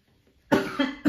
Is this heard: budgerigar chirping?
no